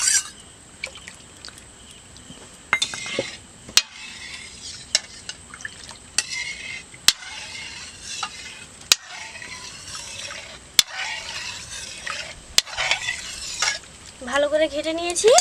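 Yogurt mixture for ghol being stirred in a bowl or clay pot, a steady wet churning and scraping with sharp clinks from the utensil against the rim, close and fairly loud, with no talk.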